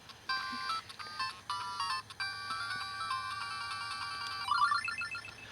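Game Boy Color game music chirps from a newly replaced speaker, bright bleeping chiptune notes in short repeating phrases that end in a quick rising run, fairly close and thin-sounding.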